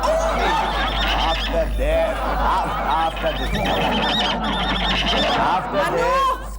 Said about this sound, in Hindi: अपने घोड़े का हिनहाना बंद करवाए